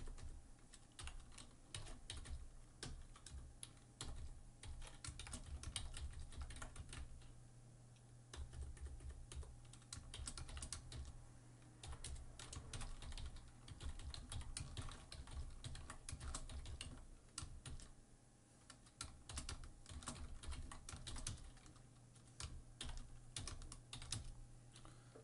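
Steady, continuous computer-keyboard typing while C# code is entered, dense clattering keystrokes running nearly the whole time at close range with a low background hum and no talking.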